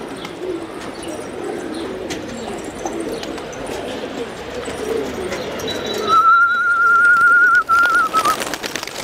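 Pigeons cooing and taking off in an outdoor loft setting, soft cooing and wing rustle under a constant background, then a louder burst with a sustained high whistle near the end.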